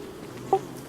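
Bees in a survival video game give a soft, steady insect buzz with a brief louder blip midway, heard alone.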